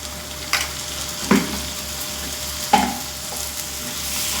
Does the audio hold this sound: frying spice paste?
yes